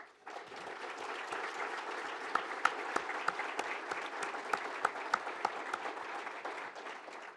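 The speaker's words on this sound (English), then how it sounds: "Please give Chief Marr a round of applause." An audience applauds steadily for several seconds, a dense wash of clapping with a few sharp individual claps standing out.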